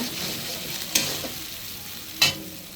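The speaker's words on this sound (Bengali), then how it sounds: "দিয়ে দিলাম আলু টমেটো একটু হালকা ভেজে নিব" Potato and tomato fry lightly in oil with an even, hissing sizzle. Two sharp spatula scrapes of a stir stand out over it.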